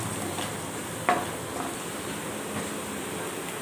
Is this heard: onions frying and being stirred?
yes